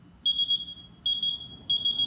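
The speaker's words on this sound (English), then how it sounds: "That beeping sound is an indication that there's still moisture." A cheap handheld moisture meter pressed against a wet drywall ceiling gives three quick bursts of sharp, high electronic beeps, each a short triple chirp, evenly spaced and clear over a quiet background.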